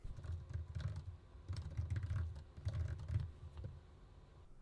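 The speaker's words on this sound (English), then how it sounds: "Then I'm just going to start typing in here." Close, quiet typing on a computer keyboard, rapid clicking keystrokes in uneven bursts with short pauses, no voices.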